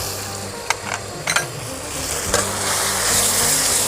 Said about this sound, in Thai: แม่เก๋จะผัดเครื่องก่อนนะคะ